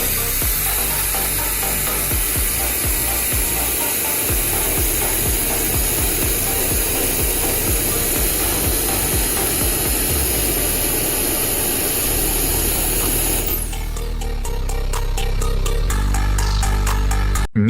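Small electric turbo fan blower running to light a campfire, a loud, steady high-pitched whirring roar with crackling beneath that then shifts to a different, harsher tone near the end.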